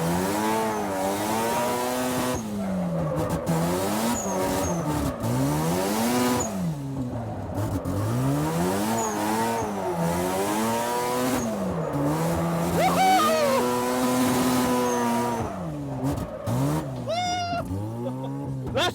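Race car drifting on a track, engine revving up and down in repeated swooping waves with tire squeal rising through the slides, loud and continuous, with occasional voices underneath.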